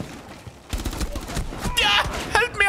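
Gunfire in Rainbow Six Siege, a quick cluster of sharp shots in the second half of a short moment, close and loud, mixed with excited voices talking.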